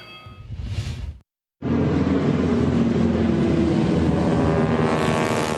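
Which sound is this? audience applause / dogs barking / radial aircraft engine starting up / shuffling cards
radial aircraft engine starting up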